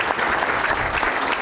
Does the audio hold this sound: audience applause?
yes